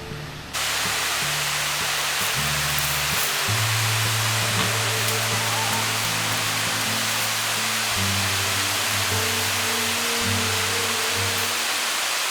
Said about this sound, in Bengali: খুব সুন্দর একটা ঝর্ণা